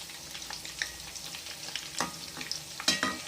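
Banana flower pakoda frying in hot oil and being turned over, a close, busy crackle with a few sharp spatula clicks.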